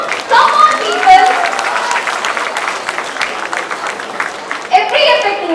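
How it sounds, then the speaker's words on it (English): Audience applauding at the XEST 2025 Xavier Youth Festival, a dense, loud wash of clapping from a crowd that stays steady throughout, with cheering and scattered voices mixed in and a fresh surge of claps near the end. "can we all give a huge round of applause for everyone who made this successful?"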